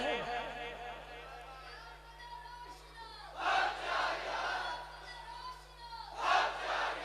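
A crowd at a religious gathering shouts a slogan in unison, two loud swelling bursts of massed voices following a solo voice, with steady hum and reverberation in a large space.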